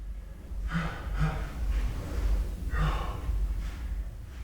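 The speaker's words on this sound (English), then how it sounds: "3 harsh exhales through your mouth" Several harsh, forceful breaths are pushed out through the mouth as a breathwork exercise, coming in close groups of two or three with short pauses between, over a low background rumble.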